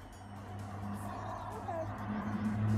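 Road traffic hums faintly in the distance as a steady low drone, swelling slightly near the end as a car seems to approach.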